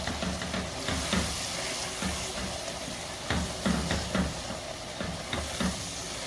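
Spiced chickpea masala fries in a pan on medium flame, a continuous close sizzle broken by repeated scraping and stirring sounds in an uneven rhythm. No one speaks.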